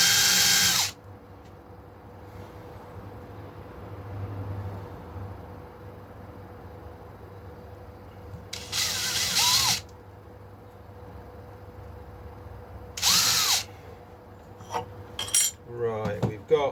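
A drill bores holes in a Stratocaster guitar body, with short bursts of drilling separated by quiet stretches and a scatter of clinking and handling noises toward the end.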